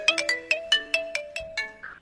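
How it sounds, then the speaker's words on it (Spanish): Telephone ringtone for an incoming call: a rapid sequence of about eight bright, evenly spaced electronic tones, loud and clear, ending in a short softer tone, with no talk over it. "Está llamando."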